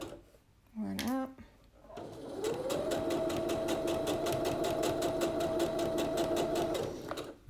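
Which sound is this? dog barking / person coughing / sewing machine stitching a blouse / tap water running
sewing machine stitching a blouse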